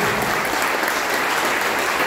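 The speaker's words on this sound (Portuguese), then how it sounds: "Uma salva de palmas" An audience at a book launch for the Italian author Renzo Maria Grosselli's novel breaks into sustained, even applause, a continuous wash of many hands clapping with no pauses.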